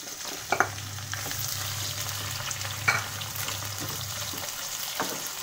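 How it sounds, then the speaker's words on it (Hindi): Chopped onions, a large onion's worth, fry in hot oil for meethi kheema, giving a steady soft sizzle with a few louder stirring scrapes and clatters near the start and middle, close by and without talk. "अब प्याज को हमें थोड़ा सा गोल्डन ब्राउन होने तक हमें तेल में पकाना है प्याज को"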